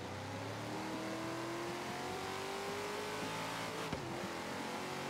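A 1969 Dodge Charger R/T in Forza Horizon 3 accelerating uphill, its V8 engine note climbing steadily through the gears, loud and continuous with a brief sharp disturbance near the end.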